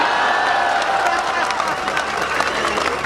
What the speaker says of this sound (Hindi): आप सबकी एक साथ तालियां चाहता हूं